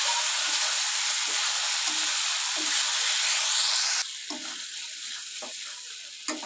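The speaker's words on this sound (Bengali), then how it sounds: "ভাজা আলু দিয়ে দিলাম" Fried potatoes dropped into oil-rich spice masala in a pan sizzle with a loud steady hiss that drops sharply partway through, leaving a softer crackle with stirring.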